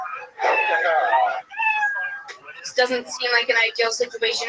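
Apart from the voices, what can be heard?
cat meow sound effect played on stream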